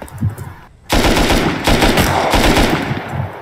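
An M249 machine gun firing in the online survival game Rust during an oil rig raid, with loud rapid automatic bursts sounding close, following a brief pause at the start.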